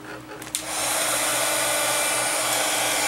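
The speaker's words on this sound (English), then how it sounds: "And then I'll hit it with the heat tool just a little bit." A heat tool blows hot air to dry paint in a mixed-media craft piece, starting after a brief click and then running as a loud, steady close whoosh.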